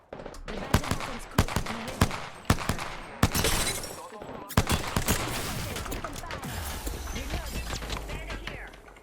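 Gunfire in a shooter video game, rapid bursts of loud sharp shots in quick succession, dense early and then thinning, with a voice talking over parts of it.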